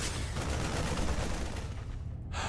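In a StarCraft 2 Legacy of the Void match, dense, continuous rapid gunfire and explosive bursts roar loudly, like sustained turret barrages amid battle, with no talking.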